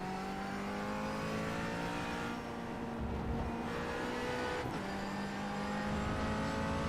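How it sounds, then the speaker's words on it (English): A McLaren GT4 race car in a sim racing game at Hockenheim, engine droning and rising in pitch through revs with a sharp gearshift change midway, steady and close with no talk. "that horrible clicking noise that I always forget about on the downshifts and the upshifts"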